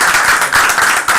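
A church worship crowd bursts into dense, loud applause, a steady wash of many hands clapping at once for a brief moment.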